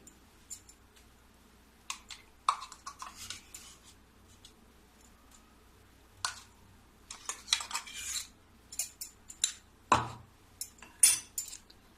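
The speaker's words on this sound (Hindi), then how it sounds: "ये चम्मच से मैं ये सारा जो पेस्ट है निकाल दूंगी।" A metal spoon scrapes paste out and taps against a bowl in short bursts with quiet pauses between, close up, with no talking.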